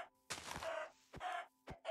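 Minecraft chicken clucking in short bursts, several distinct clucks repeating in quick succession, clear and close with no talk over them.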